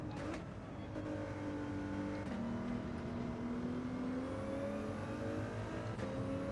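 Ford GT race car from Gran Turismo 7 with its engine held high, a steady, strained howl rising slightly in pitch as the throttle is pumped, sharp shift clicks breaking the drone, close and sustained for over six seconds.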